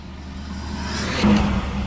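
A car drives in slow highway traffic near Highway 95, with a steady interior road rumble that swells into a brief engine rise about a second in, heard close and without talk.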